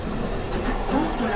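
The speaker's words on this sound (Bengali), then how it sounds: "কারওয়ান বাজার মেট্রো স্টেশনের পরেও ট্রেন খুব সুন্দরভাবে যাচ্ছে" A Dhaka metro train runs past Karwan Bazar station with a steady low rumble and faint wheel hum, heard from inside the carriage, with a voice speaking over it.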